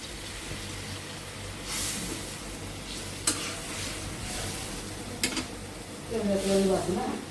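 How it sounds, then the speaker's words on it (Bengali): Ridge gourd frying in a home pan: a steady close sizzle with occasional sharp utensil clicks and a brief louder hissing surge near the end, a voice speaking at the close. "ঝিঙা ভাজি করছে আম্মা"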